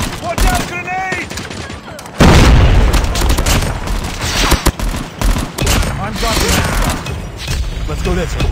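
Gunfire and a grenade blast in the Call of Duty Mobile ranked team deathmatch mode: a loud, sudden explosion bursts in about two seconds in, then continuous rattling gunfire and battle noise while game voice callouts sound over it.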